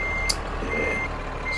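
A truck in a driving video game backs up with a steady electronic reversing beep repeating at an even pace, clear and close over low engine rumble, with no talk.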